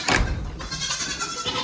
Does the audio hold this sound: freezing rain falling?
no